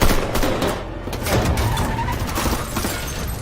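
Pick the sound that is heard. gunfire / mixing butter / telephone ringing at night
gunfire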